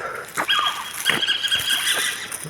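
A dog barks and yips a few times in quick, high-pitched bursts, fairly close, over a noisy outdoor background at night.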